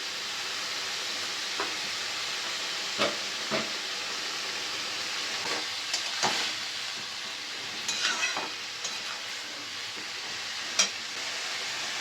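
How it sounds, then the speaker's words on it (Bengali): Ash gourd (bharali) fries in a pan while being stirred, a steady hissing sizzle with scattered spoon scrapes and clinks at irregular intervals, close and moderately loud, with no talking. "ভাড়ালিটা ভালো করে আমি এখন নেড়ে নিচ্ছি।"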